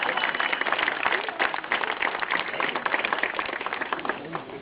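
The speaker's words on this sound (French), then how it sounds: "Vous pouvez applaudir." An audience claps at a public address, steady dense applause heard from a distance and fairly faint, with bandwidth-limited sound.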